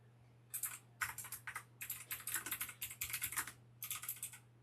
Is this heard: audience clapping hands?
no